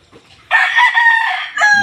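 A rooster in a backyard chicken coop lets out a loud, close crow lasting about a second, followed by a short second call. Faint clucks come just before it, and there is no talking.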